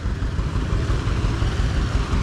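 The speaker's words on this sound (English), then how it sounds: "Here comes that A John Deere." An antique John Deere model A tractor engine runs steadily at an old gas tractor show in Mid Michigan, giving a continuous, fairly loud, rough mechanical rumble with no talk over it.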